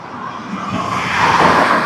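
Cars pass along a busy road, one vehicle's rushing hiss swelling louder and peaking near the end, close and fairly strong against steady traffic noise.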